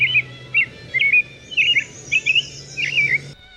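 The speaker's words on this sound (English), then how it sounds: "Today's Talking Birds featured feathered friend, the American robin." An American robin sings a series of short, clear, warbling phrases, about six in a row with brief pauses between them, heard fairly close over a faint low hum.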